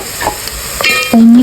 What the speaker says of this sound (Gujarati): तो मस्त मजानी वालोर तेलमां चढ़ी गई छे।